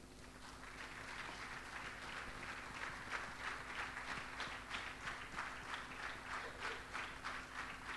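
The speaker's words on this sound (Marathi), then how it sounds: "I think we can give a better round of applause." An audience at a Sunday church service claps in sustained applause, many hands in a dense steady patter, moderately distant in the hall with a faint hum underneath.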